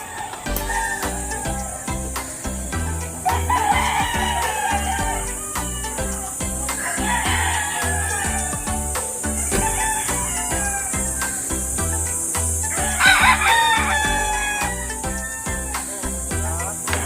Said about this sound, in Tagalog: May mga manok ano.